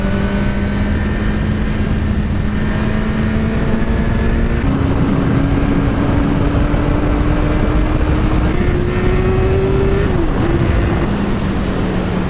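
A 2017 Suzuki GSX-R1000 sport motorcycle being ridden, its engine droning loud and steady with rising pitch through the gears, a brief dip at each shift, all under heavy wind noise and without talk.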